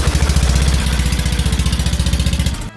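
A large boat's engine is started and runs with a fast, loud, even chugging putter, close by, then cuts off abruptly at the end.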